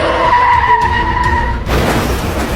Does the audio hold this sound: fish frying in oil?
no